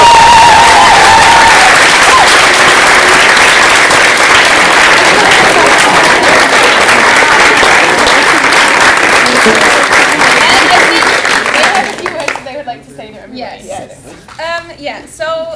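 Loud, dense audience applause for the two directors after a student musical about pressure, sustained for about twelve seconds before thinning to scattered claps and light chatter.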